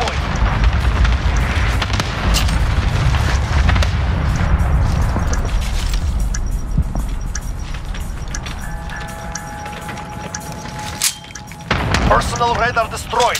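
Cluster strike explosions in Call of Duty Modern Warfare, a loud rolling barrage of booms and rumbling blasts at first, fading into clicks and game sounds, with a voice speaking partway through.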